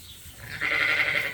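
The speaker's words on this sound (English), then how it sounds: "That's the sound rams make when they're flirting with the ewes." Sheep ram calling to ewes in a lambing barn, a single short nasal bleat that rises and holds for under a second, fairly close, with no talk.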